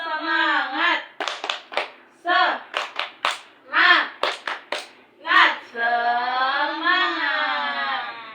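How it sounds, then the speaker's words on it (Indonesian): Young children in a classroom perform a rhythmic spirit clap, bursts of patterned hand claps alternating with sung and chanted voices, close and lively throughout. "Oke, tepuk semangat dulu."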